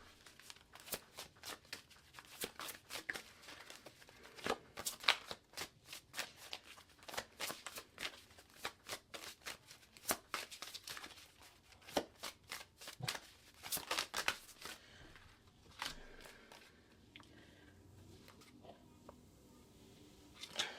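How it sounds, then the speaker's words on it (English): Tarot cards being shuffled by hand, a steady run of crisp riffling and flicking bursts at close range with brief pauses, no talk over it, fading to quieter handling near the end. "let me mix up these cards again"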